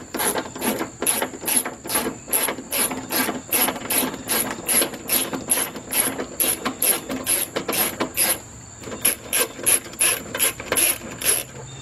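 A ratchet wrench clicks rapidly and steadily while backing out a 10 mm bolt during a fan relay and wiring harness repair on a 2005 Chrysler Town and Country, close and alone, in repeated bursts of ratcheting strokes.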